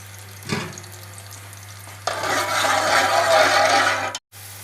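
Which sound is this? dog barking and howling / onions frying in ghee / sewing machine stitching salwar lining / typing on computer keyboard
onions frying in ghee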